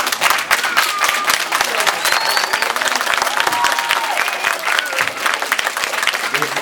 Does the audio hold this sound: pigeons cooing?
no